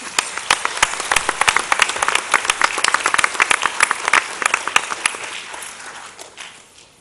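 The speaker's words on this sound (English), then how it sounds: "You can give him a nice round of applause." Audience applause at a school board of education meeting, a burst of steady clapping from a room of people that swells and then tapers off over several seconds.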